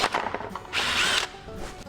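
A power drill bores a 13/64 hole during nose gear mounting on a Zenith CH 750 CruZer kit aircraft build, a steady close whine lasting about half a second after brief handling noises, then tapering off.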